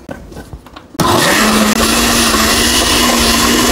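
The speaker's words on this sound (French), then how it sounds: "Aussi un peu d'eau et ensuite vous allez mixer le tout." After a second of quiet shuffling, a blender starts with a sudden loud roar, grinding dried shrimp, dried fish and water in a steady high-pitched whine.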